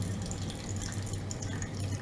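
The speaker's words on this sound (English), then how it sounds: "I don't know if you guys can hear the sound of the dripping water into the decanter." Coffee drips through a paper filter into a decanter, making a faint, steady trickle of liquid that stays quiet throughout.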